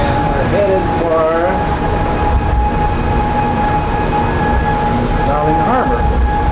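A monorail car gliding toward Darling Harbour in Sydney, with a loud continuous rumble and hum throughout and rising whine-like tones as it travels.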